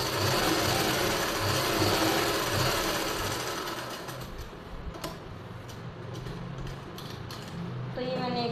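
A sewing machine stitches a silk suit in a steady, close whirring run that slows and gives way to lighter clicks and ticks, with a voice talking over part of it.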